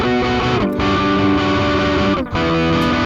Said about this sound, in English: So I turned the tone knob a little bit down just so it would darken the sound and the overall tone of the guitar